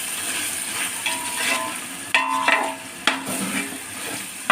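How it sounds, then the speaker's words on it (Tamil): Ingredients being stirred and sautéed in a pan for biryani: a steady sizzle under sharp scrapes and clinks of the spoon against the pan at irregular moments. "அடி பிடிக்காம கொஞ்சம் கிளறிட்டே இருக்கணும்."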